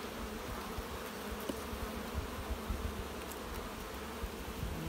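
Honey bees buzz steadily on a brood frame opened from a hive, a dense, continuous close drone with faint scattered ticks and no speech.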